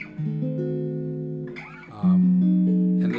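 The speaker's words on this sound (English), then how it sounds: "the diminished chord sounds like this" Sustained diminished chords on guitar ring out, one held for over a second, then a brief pause with a scrape, then another loud chord holds steady.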